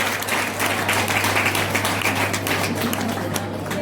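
An audience applauds at a university foundation day ceremony, a dense, steady round of clapping from many hands that holds throughout.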